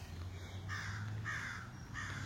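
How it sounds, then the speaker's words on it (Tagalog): A crow caws three times at a steady pace, harsh rasping calls from some distance over a low hum of background noise. "yung isang uwak na yun na maingay na yun"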